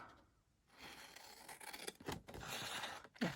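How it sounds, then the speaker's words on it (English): Scissors cut paper for a junk journal close up, making quiet, continuous snipping and scraping for a few seconds. "Cut it down."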